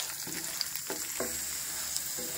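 Peanuts fry in oil for lemon rice, making a close, crackling sizzle with a few soft scraping stirs breaking through. No voices are heard.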